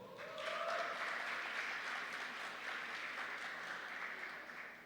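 Audience applause at a seminar on gender diversity in basic education, a steady wash of clapping from many hands that rises quickly and holds at an even level throughout, without talk.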